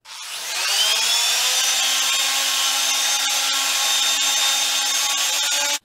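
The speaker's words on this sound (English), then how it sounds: "We're gonna hit it real quick with some 220 grit sandpaper" A wooden breadboard is sanded with 220-grit sandpaper, a steady close whirring rasp that spins up at the start, holds evenly for several seconds and then cuts off abruptly.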